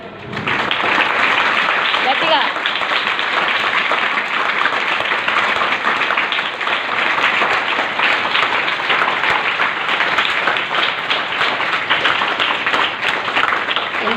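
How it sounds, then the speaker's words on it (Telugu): A meditation group clapping loudly together, a dense continuous wash of applause sustained throughout, close and strong, with voices mixed in beneath. "గట్టిగా క్లాప్స్ కొడదాం ఒకసారి"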